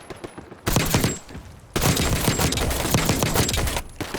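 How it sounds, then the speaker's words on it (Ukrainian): Decoy grenades in Call of Duty Black Ops 6 faking gunfire: two loud bursts of rapid, crackling shots like a firefight, the second longer and sustained, separated by a short lull. "Це отвлекаючі гранати."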